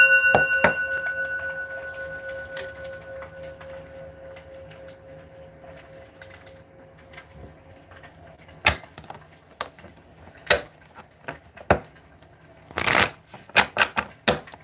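A new tarot deck is shuffled in quick riffling bursts with scattered soft taps and clicks, close by and fairly quiet, with no voice.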